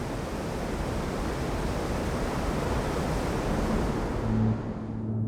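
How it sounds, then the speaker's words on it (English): Glacial meltwater cascading down from Icelandic glaciers, a steady broadband rushing roar that holds at an even, loud level throughout, with a faint low tonal hum near the end. "Meltwater rushes down in cascades from the glaciers, forming pools and lakes within the sculpted landscape."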